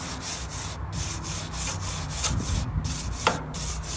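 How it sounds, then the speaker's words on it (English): Metal bristle scraper rubbing across a grill grate, a steady rough scraping texture running continuously with a few sharper scrapes near the end. "She really needs a scraping, and I do have a scraper guy, except it's one of these crappy metal ones"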